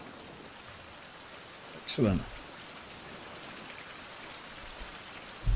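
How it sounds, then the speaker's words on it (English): Rain falls in the open-world survival game Fountain of Youth as a steady, even hiss throughout, with a brief spoken word and a low thump partway through. "Oh, now it's raining."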